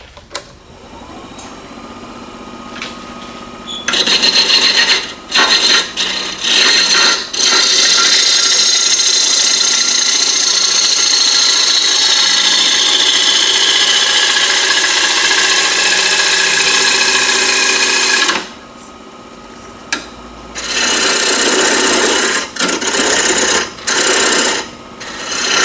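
A wooden bowl spins on a lathe while a tenon is cut on its base to fit a 4-jaw chuck. Two long, loud spells of rough, scraping cutting are broken by a short pause, with no talk.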